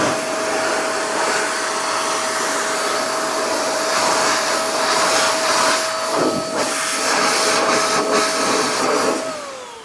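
A steady, loud rush of air blown across a freshly ceramic-coated tire to dry it, with a faint whine running underneath and brief surges and dips near the end.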